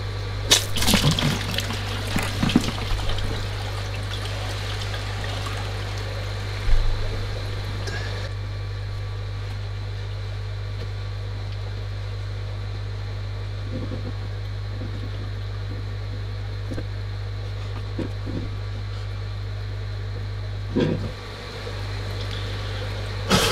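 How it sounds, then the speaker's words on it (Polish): Water and substrate, including leftover alder cones, being siphoned out of a shrimp aquarium through a thick hose make faint trickling and gurgling over a constant low hum, with occasional knocks and splashes. "Odessam i wodę, i podłoże, i resztki,"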